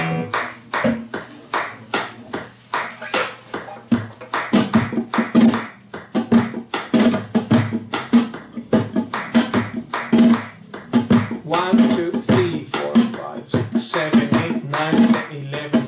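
Flamenco metronome hand claps from the acompas.org tool with the eighth-note claps switched off, sounding as a steady, fairly loud run of crisp, sharp claps in a regular counted rhythm, heard alone without talk.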